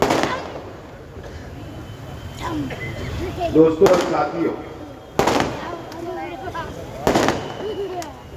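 Firecrackers burst at an outdoor public political rally, a few sharp cracking pops and crackling bursts spaced seconds apart, fairly near, under someone speaking to the crowd.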